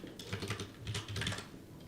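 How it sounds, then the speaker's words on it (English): Computer keyboard keys mashed at random in quick, uneven bursts of close, crisp clicking that runs on without pause and with no talking. "Just mashing the keyboards."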